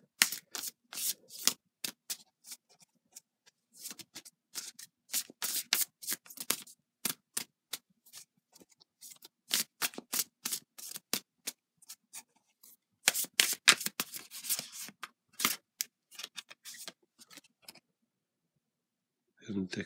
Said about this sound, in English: I'll get a tarot card from the Light Seers Tarot.